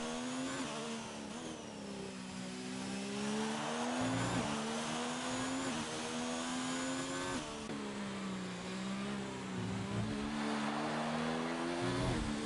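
An F1 car at Abu Dhabi in a racing game, its engine whining high and steady, rising and dipping through corners, with a short tire squeal from a wheel lock-up under braking and no talk.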